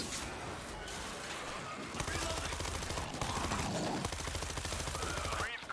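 Heavy gunfire against a zombie horde in World War Z, with rapid automatic bursts and a dense fusillade that grows louder and more constant after the first couple of seconds, mixed with shouting voices.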